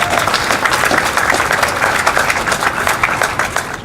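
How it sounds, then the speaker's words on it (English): An audience greets Bill Harper at a greyhound dedication event with dense, continuous applause that stays loud and steady throughout. "Let's give Bill Harper a rousing round of applause"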